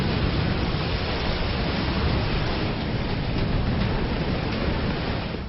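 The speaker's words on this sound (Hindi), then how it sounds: "आज शहर में लहर का शोर है।" Floodwaters of the Beas river roar through Manali in a dense, unbroken rush of churning waves, loud and steady with no pauses.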